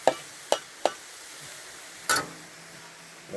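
Cauliflower frying in a pan as a low-carb fried rice stand-in, a faint steady sizzle under several sharp clicks and scrapes of a utensil against the pan, close by with no talking.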